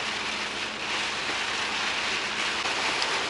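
Steady, dense hiss of heavy rain pouring down continuously, loud and close, with no voices.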